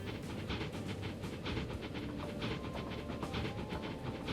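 In the video game Transport Fever 2, a train locomotive hauls a heavy load slowly up to speed, giving a steady, dense rumble with a rhythmic clatter. It plays fairly faint and unbroken, with no talk.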